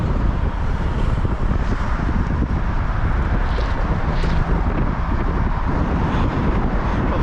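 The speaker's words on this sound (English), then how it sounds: "I'm sure you can hear the wind on the camera." Heavy wind buffeting an outdoor camera microphone beside a busy multi-lane road in China, a loud continuous rumbling roar with steady low-end noise throughout.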